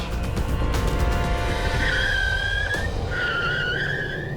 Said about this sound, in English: now she's hitting the brakes